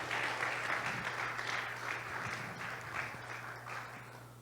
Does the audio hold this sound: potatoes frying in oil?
no